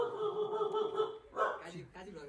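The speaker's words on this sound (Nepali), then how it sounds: "कुकुरले हान्छ जस्तो त यार" A dog barks nearby at a park, giving a few short yapping and whining barks against a background of people talking.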